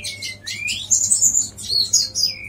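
Prinia bird chirping up close: rapid high, thin tweets and trilled calls in quick bursts, loud and alone, with a low steady hum underneath.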